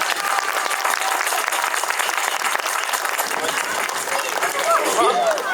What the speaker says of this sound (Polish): Służący, największe brawa, bo dobry człowiek, Michał Radkiewicz.